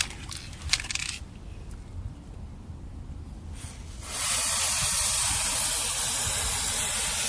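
Lubricant sprays onto the chain of a Honda CB125F motorcycle in a steady, close hiss lasting about three seconds. It follows quieter handling noises and a few faint clinks.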